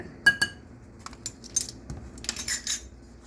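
Spoon stirring teaspoon of cinnamon into a pear crisp mixture in a bowl, giving scattered light clinks and scrapes against the dish in an irregular rhythm, fairly close and alone.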